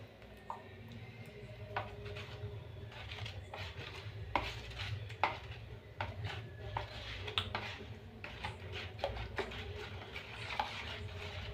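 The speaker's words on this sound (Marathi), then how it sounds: "तर छानपैकी फेटून घेऊया." Rava dosa batter being whisked briskly in a bowl, with a fast rhythm of light spoon or whisk clinks and scrapes against the sides, close and fairly quiet over a low background hum.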